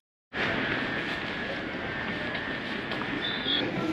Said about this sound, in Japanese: 2両編成で内房線館山方面鴨川経由の上総一宮駅が入線してきました